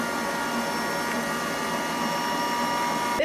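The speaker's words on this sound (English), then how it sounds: "I'm just going to mix this up until it's nice and fluffy with a wire whisk" Stand mixer with a wire whisk beating butter and cream cheese in a large bowl, a steady whirring hum throughout at moderate volume, with no speech.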